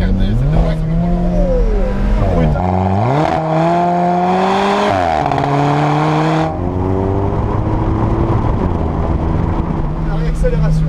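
An Alfa Romeo 4C turbo sports car engine revs hard and climbs through the gears on the road, pitch rising and falling with each shift, loud and close, with a voice talking over it.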